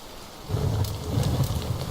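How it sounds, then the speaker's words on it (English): Steady rain falls in a forest, a dense, even hiss of drops on leaves and ground that starts abruptly and stays constant and close, with no voices. "it's raining right now"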